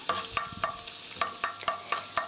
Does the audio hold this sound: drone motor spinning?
no